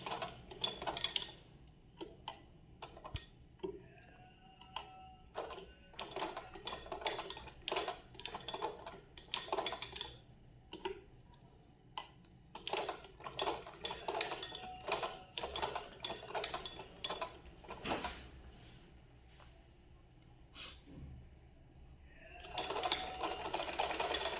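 A sewing machine stitches a thick hem (daman) on a simple practice piece, running in quick close bursts separated by short pauses, with faint light clinks between runs.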